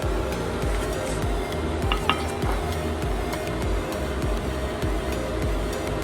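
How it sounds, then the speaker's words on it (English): About 2 tablespoons of honey stirred in a separate bowl, a steady close scraping and swishing running the full length with a few brighter clinks of utensil against the bowl, no talk. "in a separate bowl, mix the honey"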